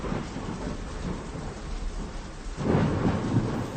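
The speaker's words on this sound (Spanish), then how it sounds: "Está lloviendo a cántaros y es hora de regresar a casa." A thunderstorm with heavy rain pours continuously, dense and hissing, then a deep rumble of thunder swells near the end, used as an audiobook sound effect.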